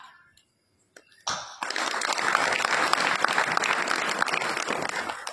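A crowd at a Marathi devotional kirtan breaks into clapping after a few quiet scattered sounds, the applause starting abruptly and swelling into a thick, sustained patter of many hands that continues to the end.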